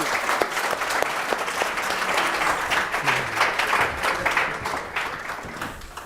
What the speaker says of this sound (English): Big warm round of applause for the panel here, please